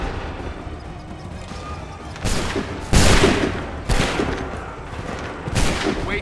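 Musket volleys ring out in the Assassin's Creed III game: a series of loud, crackling massed gunshots, about four bursts spaced a second or so apart, over a rumbling battlefield background.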